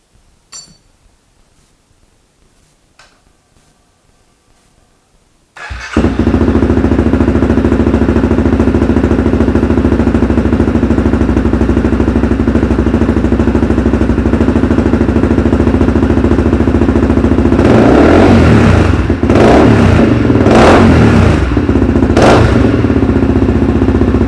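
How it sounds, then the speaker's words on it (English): After a few quiet clinks, a Honda CRF250L motorcycle engine with an Arrow exhaust and its silencer removed bursts to life very loudly, a harsh unmuffled roar that runs on with several sharp revs near the end. "now I've taken the silencer out. Let's see how much louder it is."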